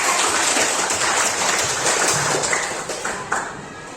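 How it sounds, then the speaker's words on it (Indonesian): A classroom of children clapping their hands together, a dense, steady patter of applause lasting several seconds. "Mari kita tepuk tangan dulu supaya kita tambah semangat"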